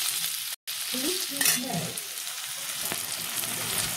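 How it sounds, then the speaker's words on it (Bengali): Small fish fry in a pan with turmeric, salt and Kashmiri chili powder, giving a loud, steady, crackling sizzle with stirring scrapes and one momentary dropout near the start. "এটাকে এবার আমি ভালো করে ভাজা ভাজা করবো।"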